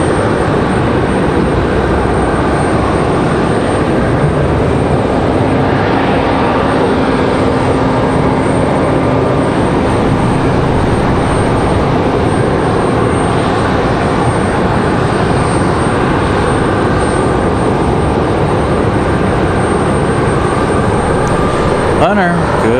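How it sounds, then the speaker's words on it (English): A Southwest airliner taxiing at Raleigh-Durham International Airport, its engines producing a loud, continuous broadband rumble and whine that stays steady throughout. "Southwest nearly going past taxiway Charlie there."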